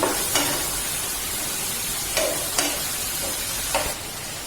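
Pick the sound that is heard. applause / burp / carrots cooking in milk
carrots cooking in milk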